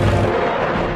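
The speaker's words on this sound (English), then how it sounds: "An explosive 30mm cannon shell strikes Candelaria's right wing." An explosive 30mm cannon shell from a German jet strikes the right wing of a P-51 Mustang in a dogfight, a single loud, close boom that rumbles briefly and fades.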